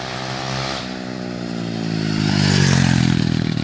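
An SSR 125cc pit bike engine revs up loud and close, its buzzing note climbing in pitch and volume before easing slightly, with no voices.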